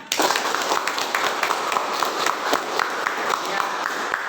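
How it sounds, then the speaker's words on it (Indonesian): Classroom applause from a group of junior high school students during a religious education lesson, dense energetic clapping sustained evenly throughout, close and loud, with no one speaking over it. "Tepuk tangan."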